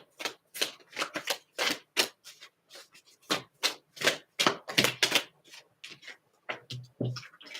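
Oracle cards being shuffled and handled up close, a quick irregular run of crisp riffling and slapping bursts with short pauses between, with no one speaking.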